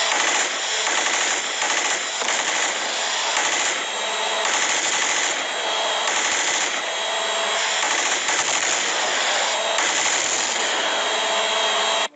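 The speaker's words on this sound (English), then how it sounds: "this military-grade quad-rotor machine gun is also a consideration" A military-grade quad-rotor machine gun fires one unbroken, very loud burst lasting about twelve seconds, a dense mechanical roar with no gaps between shots.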